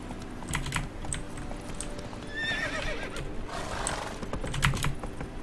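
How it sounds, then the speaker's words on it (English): A horse in the Witcher 3 video game trots with quick clip-clop hoofbeats and lets out a clear neigh midway, with keyboard-like tapping scattered over a steady game ambience. "Get on the horse."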